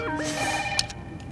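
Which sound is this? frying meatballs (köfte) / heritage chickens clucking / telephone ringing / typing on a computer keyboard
telephone ringing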